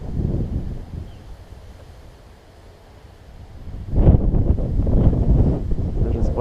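Strong outdoor wind buffets the microphone around a small Rod Drone X4 H107L toy quadcopter, a steady rumbling roar that eases midway and then surges back louder in heavy gusts.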